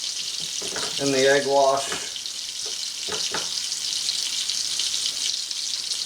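Scotch collops sizzle steadily in butter in a frying pan, a constant crackling hiss running throughout while a voice talks briefly over it.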